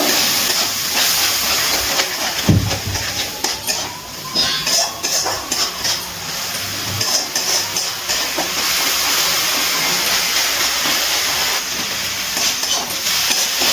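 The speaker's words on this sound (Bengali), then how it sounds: "এবারে মশলাটা খুব ভালো করে কষিয়ে নেব" Spice paste with Kashmiri chilli powder and a little water sizzles and hisses steadily in a pan while being fried down, with occasional scraping and clinks of a utensil over the continuous sputter.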